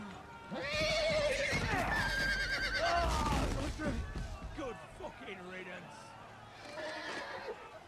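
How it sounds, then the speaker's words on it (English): A horse in the Game of Thrones Telltale video game whinnies loudly and at length, with heavy trampling beneath it, then the noise fades into quieter rustling. "Just got crushed to death by a fucking horse."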